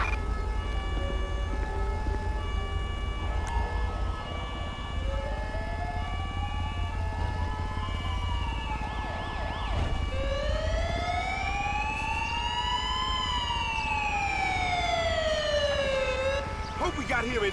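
An ambulance siren in the video game GTA 5, a loud wailing tone rising and falling in long slow sweeps over a steady engine and street hum, with a radio dispatch voice talking.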